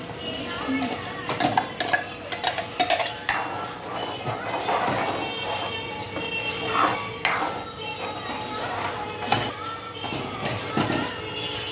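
Spinach being stirred into a pan of palak paneer, with a spoon clinking and scraping against the metal in irregular taps and a soft sizzle underneath, a voice talking over it now and then.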